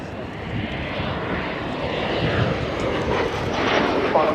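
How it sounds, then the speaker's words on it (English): Fixed-wing aircraft on final approach at about 90 knots with landing gear and flaps lowered, its engine drone loud and steady throughout, swelling slightly toward the end. "Carriage coming down, flaps coming down, aircraft flying at 90 knots, and on to the final approach."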